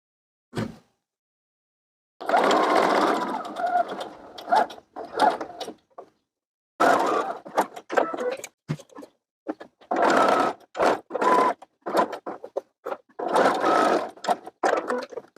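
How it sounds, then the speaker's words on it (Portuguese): Sewing machine stitching a shoulder seam on a lined child's dress, running in several loud, close bursts separated by short pauses. "E vamos lá na máquina passar uma costurinha, unindo o ombro."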